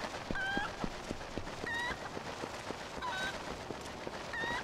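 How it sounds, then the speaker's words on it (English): Chickens in the video game Zelda: Twilight Princess, clucking and squawking calls repeating roughly once a second over steady game ambience and soft footfall-like ticks, moderately loud and with no talking. "There are chickens!"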